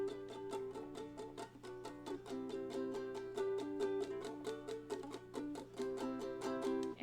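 Soft ukulele strums brushed with the fingertips in a quick, even eighth-note rhythm, quiet and close, with chords ringing between light strokes while the strumming continues alone.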